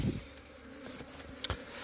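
Honey bees buzz around a nest dug into the ground beneath a road in the mountain forest, a steady close hum with a brief louder burst near the end and no talking.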